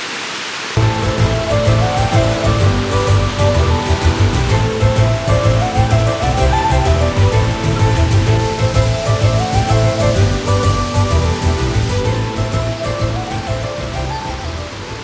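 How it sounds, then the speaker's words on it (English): Waterfall at Balquhidder rushing over exposed rocks, a loud continuous roaring wash of water that holds steady and close throughout. "you can see by all the exposed rocks just how crazy this waterfall can get"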